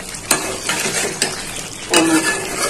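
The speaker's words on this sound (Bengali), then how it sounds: "টমেটো দিয়ে আর একটু নাড়িয়ে চাড়িয়ে আবার ঢাকনাটা দিয়ে রাখবো আর একটু কষানোর জন্য" Chopped tomatoes stirred into mutton curry in a pot: a loud close sizzle with sharp metal spoon scrapes and knocks against the pot recurring every half second or so, no voices.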